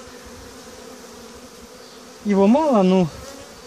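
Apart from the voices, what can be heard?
honey bees buzzing at an opened hive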